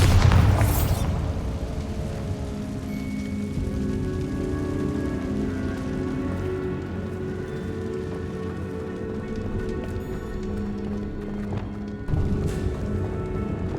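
Confringo and Bombarda spell explosions from Hogwarts Legacy, with a sharp booming burst up front, then a long rumbling, crackling tail of debris and a second thump near the end.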